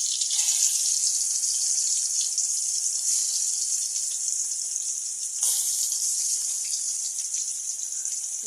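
Small river snakehead fish fry in a hot wok, a loud, dense, hissing sizzle that holds steady throughout, with a sharp surge partway through, and no voices.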